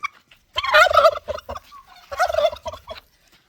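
A turkey gobbles in two rapid, rattling bursts at close range, with short pauses between them.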